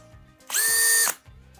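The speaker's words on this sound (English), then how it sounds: "This drill bit doesn't want to do anything." A power drill with its bit pressed into a hole for a DIY carry belt, whining in one steady, loud burst of about half a second, with quiet handling noise before and after.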